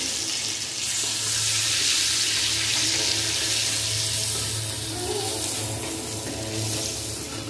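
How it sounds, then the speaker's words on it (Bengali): Water pours steadily into a pot of sour morola fish curry tempered with mustard seed, green chilli and salt in hot oil, a loud continuous rushing gush with a faint sizzle beneath, no talking. "এখন জল দিয়ে দেবো"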